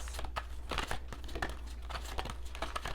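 Oversized tarot cards are shuffled up close, giving quick soft papery riffles and crinkling slides in an uneven rhythm, with no talking.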